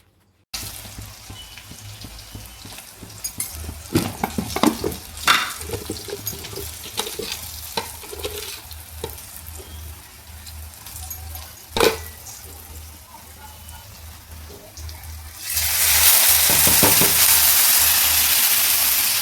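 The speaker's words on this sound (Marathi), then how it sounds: "चला तर फोडणीला टाकूया." Soaked lentils sizzle steadily in hot tempering oil in a village kitchen, with occasional sharp clinks of stirring, then a louder, fuller hiss surges near the end.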